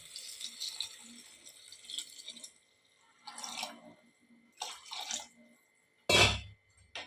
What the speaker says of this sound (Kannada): ಆಗಲೇ ಅಳತೆ ಮಾಡಿಟ್ಕೊಂಡಿದ್ದ ನೀರು ಸೊ ನೋಡಿಕೊಂಡು ಬೇಕಾದಷ್ಟೇ ಹಾಕ್ಕೊಳ್ಳಿ